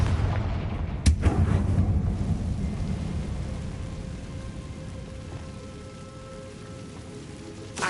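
A Confringo blasting spell fires in Hogwarts Legacy, one sharp, loud crack followed by a long rumbling decay. A dull ambient wash that sounds like rain and thunder continues underneath.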